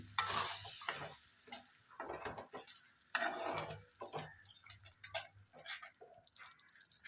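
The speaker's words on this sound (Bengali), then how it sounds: "কষাচ্ছি" Curry being sautéed in a pan gives intermittent bursts of sizzle and scraping strokes of a spatula with quiet gaps between, close and moderately faint, a voice briefly heard in the background.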